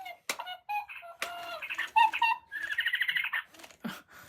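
Spin Master Wizarding World interactive Hedwig owl toy giving a quick string of electronic chirps, squawks and warbling hoot-like calls, fairly close and moderately loud, with brief gaps between the bursts.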